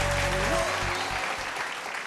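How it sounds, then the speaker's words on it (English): Studio audience applause on a televised singing contest, a broad hiss of clapping crowd following a contestant's exit, steady and fairly strong while a host's amplified voice carries over the start. "another round of applause for him"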